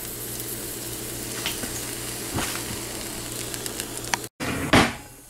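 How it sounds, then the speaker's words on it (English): Cumin seeds sizzle steadily in hot ghee in a pan, a close, continuous frying hiss with a few faint stirring clicks and a brief louder spatter near the end. "Take 1 teaspoon ghee and 1/2 teaspoon cumin seeds"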